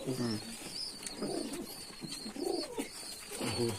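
Pigeons coo in a loft of a Rajshahi pigeon keeper, with soft repeated low coos under steady chirpy bird noise; people talk through much of it.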